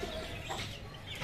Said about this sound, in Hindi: चूजे बहुत बेचैन हुए हैं, वो देख कैसे लड़ रहे हैं